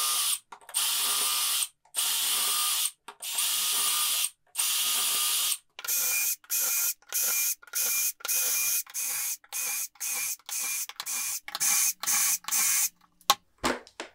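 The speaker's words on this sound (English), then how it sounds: "I like to use this jig that makes it simple to position the holes accurately and space them out evenly." A power drill bores shelf pin holes through a cabinet side using a spacing jig: a long series of short, loud whirring bursts separated by brief silences, getting quicker toward the end.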